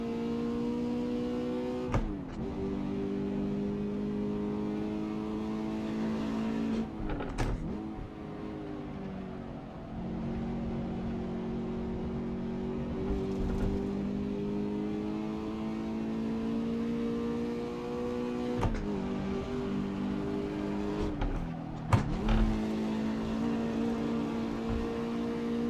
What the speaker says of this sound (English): once you hit the rev limiter on the 86, it does have this, starts to tick